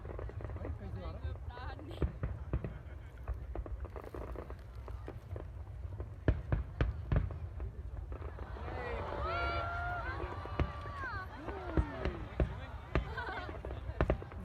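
A summer fireworks display in South Korea pops and bangs in a series of sharp bursts at moderate distance, with crackling and whistling trails mid-way and people talking nearby.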